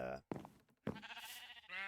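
Minecraft sheep bleat on a wool farm of sixteen sheep pillars, a few short, nasal in-game bleats in quick succession, close and fairly faint.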